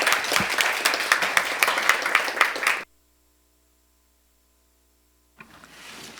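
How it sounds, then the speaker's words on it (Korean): An audience at a 2024 personal information forum on child and youth privacy gives a speaker a full round of applause, dense and steady for nearly three seconds before stopping abruptly into silence. "박수 한번 크게 부탁드리겠습니다."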